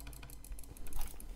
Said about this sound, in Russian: А я могу вот так быстро кликать.